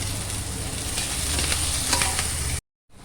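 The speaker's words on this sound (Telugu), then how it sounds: "ఉల్లిపాయలు వేసుకొని బాగా ఇలా ఫ్రై చేసుకోవాలి." Onions fry in a pan for an egg pulusu curry, a steady close sizzle with faint stirring scrapes that cuts off abruptly near the end.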